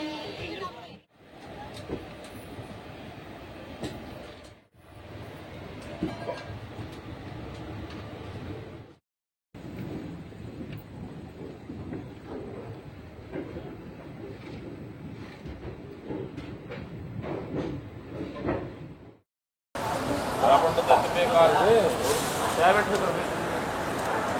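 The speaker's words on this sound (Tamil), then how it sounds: "ட்ரெயினும் எடுத்துட்டாங்க." A train runs steadily from Kollam toward Chennai Egmore on an unreserved trip, its rolling rumble broken by brief gaps and a louder, brighter stretch near the end, with people talking over it.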